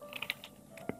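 A security code typed on a computer keyboard, a few quick soft key clicks in an irregular burst, close and faint, no talking.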